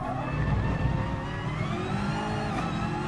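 Gr3 race car engine revving hard in GT Sport at Suzuka, a continuous loud high-pitched whine with rising and falling revs through the Casio Triangle chicane, heard alone.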